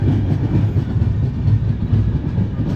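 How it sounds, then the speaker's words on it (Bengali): The Tamralipta Express, a passenger train from Kolkata bound for Digha, pulls away with a steady close rumble of wagons and soft rhythmic clickety-clack of wheels over rail joints. "ট্রেন ছেড়ে দিল"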